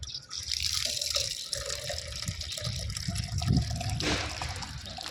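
Water poured from a mug onto flowering hibiscus plants trickles and splashes steadily for several seconds, close by, with a brief heavier gush near the end.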